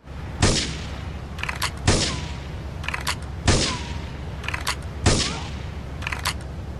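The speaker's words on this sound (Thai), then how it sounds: "คลอดต้องยิงสมาชิกแก๊งโคลัมเบียคาร์เทลที่ดูแลเรือคอนเทนเนอร์เลสคาร์โก้ลำนี้" Sniper rifle fire in the remastered GTA 3 Definitive Edition, aimed at Colombian cartel gang members guarding a container ship at the Portland harbour: four loud, sharp shots about 1.5 seconds apart, each with a short echoing tail.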